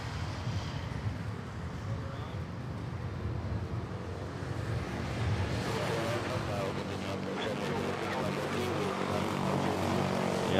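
At Manila Airport, a propeller or jet airliner goes around in gusty crosswind, its engine noise building to a broad, rising roar at mid distance, with people chatting over it throughout.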